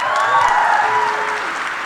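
Live crowd applauding at a Chicago Obama rally, a dense steady wash of clapping that holds at even strength throughout, with no voices standing out.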